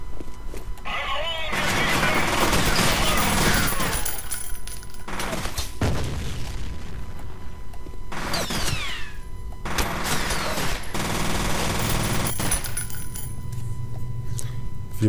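Gunfire and explosions in the first-person shooter game F.E.A.R., with loud bursts of shooting and booms in several separate blocks, mechanical and door-like clanks between them, and voices talking over the action.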